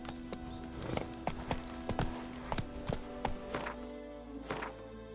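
Roach, a horse in The Witcher 3, clip-clops at a walk with a steady rhythm of hoof thuds, fairly faint, over a low ambient hum.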